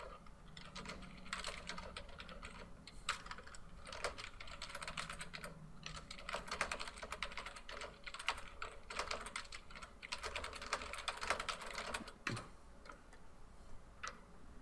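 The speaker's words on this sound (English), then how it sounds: "I would type much faster" Rapid, steady typing on a computer keyboard fills the whole stretch, a dense run of close, crisp key clicks with brief pauses and no talking.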